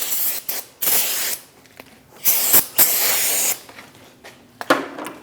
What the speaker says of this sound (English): We're going to prep our new rotor by spraying some brake clean on either surface